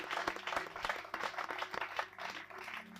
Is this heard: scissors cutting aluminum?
no